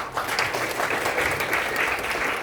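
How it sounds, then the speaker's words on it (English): Dense, steady audience applause from a crowd at a Tamaki Maori Village cultural performance, loud and even throughout with no voices cutting through. "it's plenty of applause. So can we give that a try, please?"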